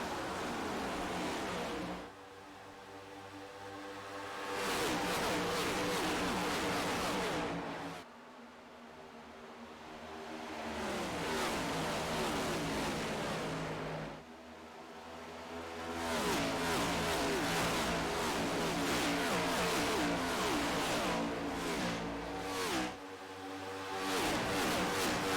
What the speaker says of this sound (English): I love the way these cars sound.